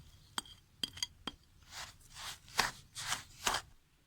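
Sugar, almonds, cashews, coconut and dates being stirred together in a bowl, with a few sharp clinks of a spoon against the bowl followed by several rustling, scraping mixing strokes.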